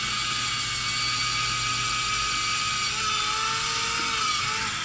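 A tiny, slightly blunt micro drill whirs continuously at close range through a DeAgostini Moomin model part, a steady shrill mechanical tone with no pauses or voices.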